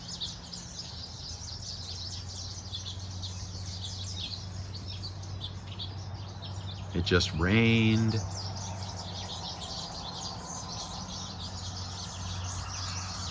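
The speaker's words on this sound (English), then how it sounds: "Listen to the birds." Birds chirp and sing outdoors against a steady background hum, with a person speaking briefly midway.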